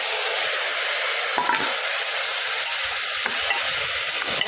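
Goat trotters dropped into a hot pan and stirred while frying, giving a loud, steady close sizzle with a few sharp scrapes and clinks from the spoon, with no talk.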